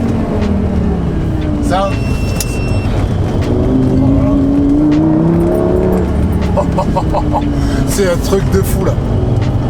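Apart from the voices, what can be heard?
Lamborghini Gallardo V10 engine accelerating on a country road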